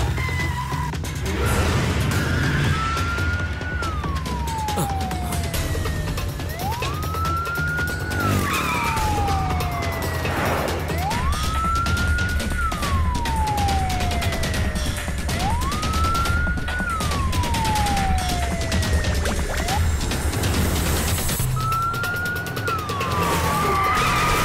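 An ambulance siren wails loud and steady, sweeping up and down about every four to five seconds, over a continuous rumble of traffic in a film action scene.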